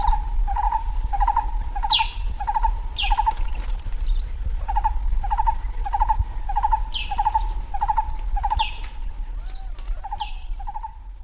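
Repeated bird calls ring out in a steady rhythm of short pulsing notes, with higher chirps scattered over them, against a constant low background rumble.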